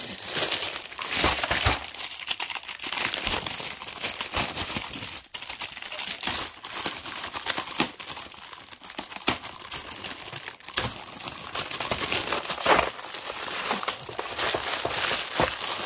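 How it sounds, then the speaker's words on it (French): Plastic packaging crinkles and crackles nonstop for about sixteen seconds, close and busy, with sharp crisp snaps scattered through the rustling. "encore du plastique. Excusez pour le bruit"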